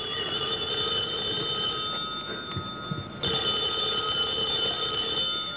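Telephone bell ringing in a 1980 Korean radio drama, steady electric trill of repeated rings that briefly cuts out and resumes, loud and close with no talk over it.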